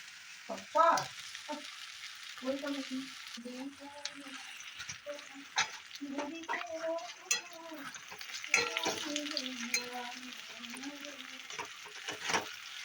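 Soya chunks fry with sauce in a pan on a low gas flame, giving a steady soft sizzle with occasional stirring clinks, while someone talks over it at moderate distance.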